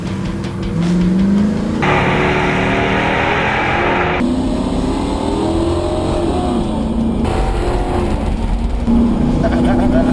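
A Chevy Caprice and a Ford Crown Vic police car drag race, engines roaring loudly and continuously, with gear changes shifting the pitch as the cars accelerate hard.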